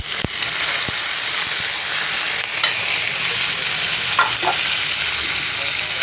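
Ginger frying in oil for raw mango pulihora gives a steady, close sizzle throughout, with a few sharp clicks and scrapes from stirring.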